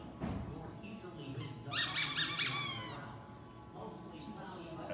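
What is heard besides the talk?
squeaker toy squeaking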